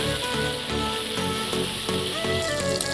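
Shrimp fry in hot white cooking oil with a dense, continuous crackling sizzle and small popping spatters, steady and close throughout.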